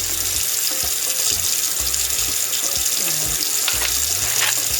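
Loud tap water runs steadily into a sink while meat is rinsed for sancocho, with splashing and gurgling shifts as the stream hits the meat, close and alone without talk.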